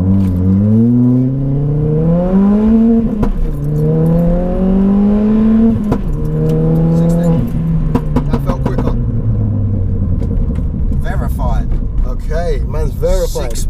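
A 320 bhp Ford Fiesta ST, front-wheel drive, accelerates hard with wheel spin, its engine note sweeping up through the gears in loud rising surges with brief drops at shifts, close by, and a voice speaking over part of it.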